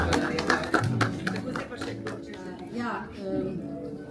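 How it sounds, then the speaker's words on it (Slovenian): Scattered applause from a small audience on a night tour of a water tower, a cluster of claps in the first couple of seconds that thins out beneath steady talking. "Tako še gospoda in aplavz."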